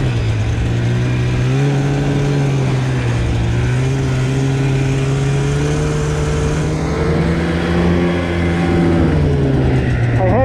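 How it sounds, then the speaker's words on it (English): Brand new snowmobile engine running at speed in snowy Norway, a loud, steady droning roar with rising and falling pitch as the throttle changes, close and continuous throughout. "I have gas. Yes. And a brand new snowmobile."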